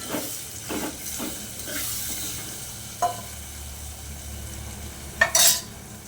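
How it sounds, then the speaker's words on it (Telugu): Chopped tomatoes are stirred in a hot pan with chilli powder for pappu, giving a steady sizzle under repeated scraping strokes of a spatula and a couple of brief metallic clinks. "తర్వాత కోసి పెట్టుకుని టమాటాలు వేసుకోవాలి."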